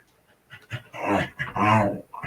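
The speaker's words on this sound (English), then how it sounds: "that's my dog in the background if you can hear" A dog whines and whimpers in a few short, nasal bursts that rise and fall, close to the microphone, with no talking over it.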